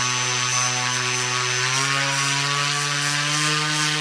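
Propeller spinning steadily at about half throttle during a prop balancing run, a loud continuous droning buzz whose pitch rises slightly partway through, with no talking.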